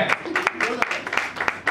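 Applause from an audience at a Hindi film music launch, scattered claps breaking out beneath and between a man's amplified speech, moderately loud.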